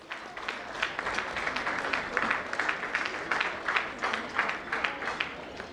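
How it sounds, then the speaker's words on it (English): An audience at a school Grade 12 graduation luncheon applauds a guest of honor, steady crowd clapping sustained throughout with rhythmic peaks. "as we give him a round of applause as he comes on the podium"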